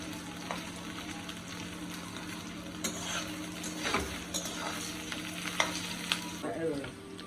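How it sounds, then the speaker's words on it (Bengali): Large pieces of homemade paneer fry in a pan with a continuous crackling sizzle, while a spatula scrapes and clinks against the pan at intervals and a low burner hum runs underneath. "আর একটু হবে, হলে পনিরটা ভাজা হয়ে যাবে।"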